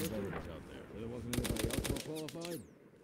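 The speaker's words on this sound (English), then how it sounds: "Oh, it's the Johnson rifle." A Johnson rifle fires in the game Mud and Blood, sounding as a rapid burst of sharp cracks in the middle, followed by a couple of separate shots against a quieter background.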